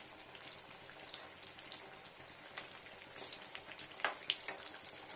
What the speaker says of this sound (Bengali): ডুবো তেলে ভালো করে ভেজে নিতে হবে ফ্রেন্ডস এগুলো